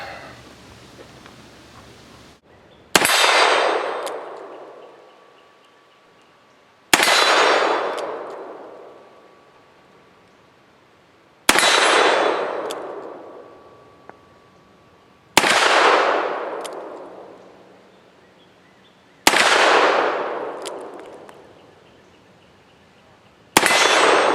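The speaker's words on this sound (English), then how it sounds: "you know you're shooting a gun" Six loud, sharp reports from a .44 Magnum Ruger Redhawk revolver, spaced about four seconds apart, each a close crack with a long ringing decay and no talk between shots.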